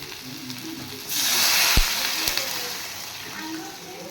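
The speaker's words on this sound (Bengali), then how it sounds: "আর এবার আমি জল দিয়ে দেব।" Water poured into a sizzling soybean and potato curry in a pan, setting off a brief, loud rush of hissing steam that swells and then fades back to a gentle simmering sizzle, with a couple of sharp knocks.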